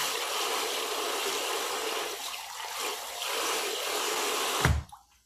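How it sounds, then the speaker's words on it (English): Fish parts rinsed under running water, a steady close hiss of flowing water that cuts off sharply near the end. "So here, I'm going to rinse this a little bit more."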